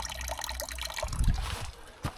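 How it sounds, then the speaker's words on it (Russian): Water trickling and splashing nearby from a spring or stream in an open outdoor spot in Spain, a light continuous flow with a few louder gurgles. "И там ручей,"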